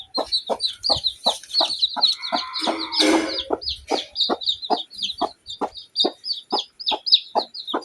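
Chickens and newly hatched white chicks clucking and cheeping close by, a steady run of short, rhythmic peeping calls with a brief louder burst of fowl noise in the middle.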